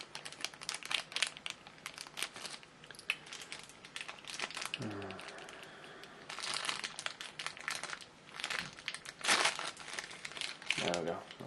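Plastic bag packaging from an action figure crinkles and rustles in repeated bursts for several seconds, close to the microphone, with a person talking at points.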